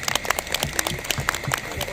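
Audience clapping at a Mumbai social-service award ceremony, a steady wash of many hands with scattered sharper claps throughout, moderately close and continuous.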